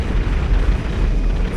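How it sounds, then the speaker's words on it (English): B-2A Spirit carpet bombing over a city highway in GTA 5, heavy explosions rolling together into a loud, continuous deep rumble with concussive booms and no pauses. "Man, you can just hear the concussions of those explosions."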